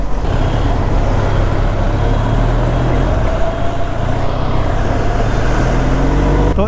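Vehicle cruising at full throttle on the NH66 national highway in Karnataka, a steady loud roar of engine and wind rush with road noise, continuous throughout.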